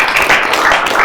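Studio audience on an Indonesian talk show clapping: a short burst of dense, fairly loud applause that holds steady for the whole second.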